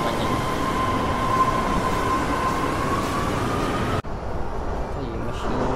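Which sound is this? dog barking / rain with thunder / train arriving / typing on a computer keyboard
train arriving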